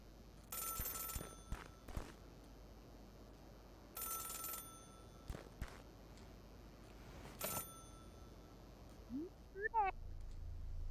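A telephone ringing inside the video game Celeste, shrill electronic rings in short repeated bursts with pauses between them, fairly faint, ending with a brief rising chirp.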